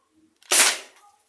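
A Byrna launcher with a loose aluminium barrel fires a single sharp, loud pop that fades over a short tail, with near silence before and after.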